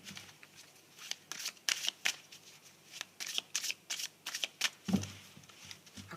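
Tarot cards being shuffled, quiet and close, in a series of quick riffling bursts and soft slaps in an irregular rhythm, with no voice over them.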